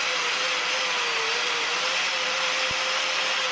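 A faulty grinder with a damaged cord connection runs close by, holding a loud, steady whirring whine with a continuous tonal hum throughout.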